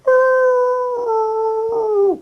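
A man imitates a wolf howl with his voice, one sustained, steady, loud tone held for about two seconds before dropping off at the end, close and alone.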